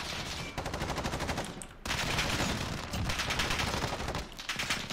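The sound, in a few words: SMG gunfire in the video game Modern Warfare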